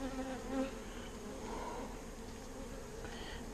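Honey bees buzzing during a hive inspection in hot Texas weather, a faint, steady swarm hum close by with individual bees droning past, no voices.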